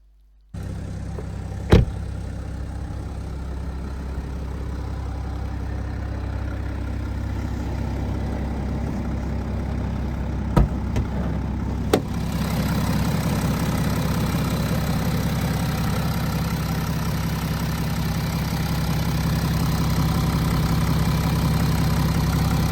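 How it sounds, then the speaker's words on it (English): Idling BMW 530d M Sport diesel with automatic gearbox, a steady, smooth low rumble held close and even throughout, with a few brief clicks partway through and no talking. "Just listen to this beautiful smooth engine."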